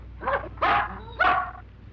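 A dog barks three times in quick succession, close and fairly loud, with short gaps between barks and a low hum underneath.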